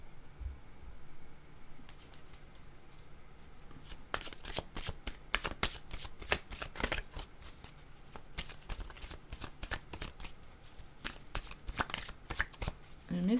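Tarot cards shuffled repeatedly by hand, a steady flurry of quick papery riffles and slaps that starts after a quiet opening and carries on close up through the rest, with no speech.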